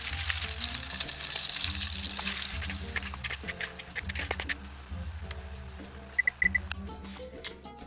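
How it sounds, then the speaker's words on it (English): Egg mixture for Persian kuku sabzi frying in a pan, giving a steady close sizzle with faint stirring and scraping, a few clinks near the end, and no voices. "pour the egg mixture and fry for 5 minutes or until just set"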